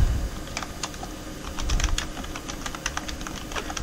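Rapid clicking keystrokes on a computer keyboard being tested with a keyboard test utility, an irregular close patter of sharp taps with no talk.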